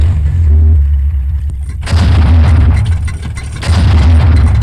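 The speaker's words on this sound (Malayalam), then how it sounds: "പൂക്കുറ്റിയുടെ വെടിപൊട്ടി, ഇനി രക്ഷയില്ല." A pookutti firework bursts in a Malayalam comedy film scene, loud deep booming blasts arriving in two heavy bursts with rumbling tails, preceded by a low droning hum.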